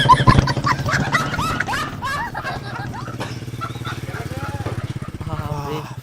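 A motorcycle engine runs with a steady low idle throughout, partly masked by loud, excited voices shouting over it.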